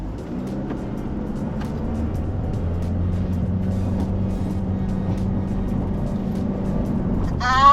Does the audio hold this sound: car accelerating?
yes